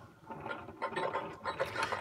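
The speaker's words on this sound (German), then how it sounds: "Eine Art Klopfen, ein Bergwerksgeräusch könnte man sagen." Quiet irregular knocking and clattering from a Brio Magic Tunnel toy, like mining machinery or loose metal parts rattling, in quick uneven taps over a couple of seconds.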